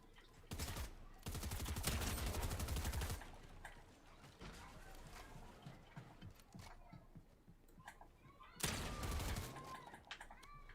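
Rapid bursts of video game gunfire rattle loudly in dense volleys, pausing in the middle with scattered shots and clutter before another heavy burst near the end.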